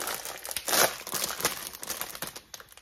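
A Snips chocolate bar wrapper crinkles and tears open up close, with a dense burst of crackling plastic around the one-second mark, then smaller rustles and crinkles fading out.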